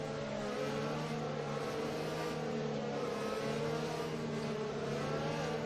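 A safety car in a Belgian race pulls away with a steady, droning engine note that holds without a break. The pitch rises slightly toward the end, heard up close and continuous.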